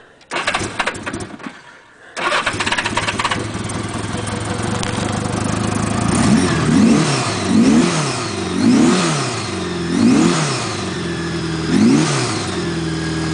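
A 1976 Honda GL1000 Goldwing motorcycle with a Vetter Terraplane sidecar and electronic ignition cranks, stalls briefly, then starts and settles into a smooth idle before being revved several times in rising and falling swells, loud and close.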